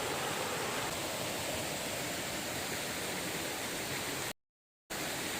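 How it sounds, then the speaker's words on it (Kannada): Fast-rushing stream water pours past in a dense, steady roar, loud and close throughout with no voices, cutting out abruptly for a brief moment near the end before the torrent returns. "ನೋಡಿ ಎಷ್ಟು ರಭಸದಲ್ಲಿ ನೀರು ಬರ್ತಾ ಇದೆ"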